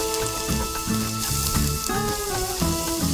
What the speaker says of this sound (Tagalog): Ngayon kung mainit na ang ating kaldero or cooking pot ay atin na pong ilalagay itong bawang,